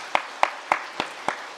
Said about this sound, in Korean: 우리 뜨거운 박수로 함께